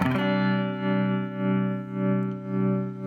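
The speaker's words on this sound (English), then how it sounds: "this pedal also functions as a tremolo pedal" Electric guitar through a Chase Bliss Warped Vinyl MKII pedal in tremolo mode, a single held chord whose volume swells and dips in a slow, even pulse, clean and moderately quiet.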